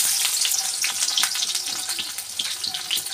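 Onions dropped into hot oil in a pan already used for frying fish, giving a loud, steady, close-up sizzle and crackle that runs without a break, with no talking over it.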